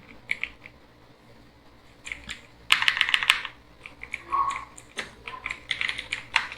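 Fingers type on a computer keyboard in quick, close clusters of clicking keystrokes while entering a salary advance ledger in Tally ERP 9 accounting software, pausing briefly between bursts.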